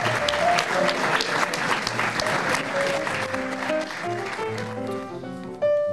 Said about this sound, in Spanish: Un gran aplauso para el señor Pedro Beltrán